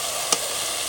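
Hot oil sizzles steadily as fried onion and garlic tempering for khichuri crackles in the pan, a continuous bright hiss with one short, sharper spurt of spatter partway through.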